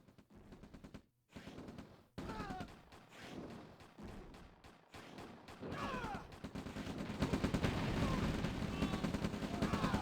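Bombardment in the real-time strategy game OpenRA Red Alert, with rapid bursts of gunfire and explosions that thicken into a dense, continuous barrage toward the end, with a brief lull near the start.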